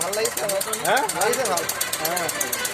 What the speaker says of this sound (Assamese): গাড়ী ষ্টাৰ্ট হৈ গ'ল